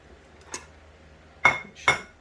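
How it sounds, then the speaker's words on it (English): A bowl taken out among clinking dishes in a home kitchen, with a light knock and then two sharp ceramic clinks close by, alone without talk. "I'm going to grab myself a bowl"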